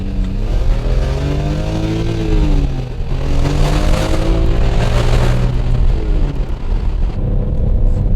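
A car with an inline-six engine accelerating at half throttle, a loud, steady mid-pitched engine drone that rises gradually in pitch over several seconds, heard from inside the car with no talk.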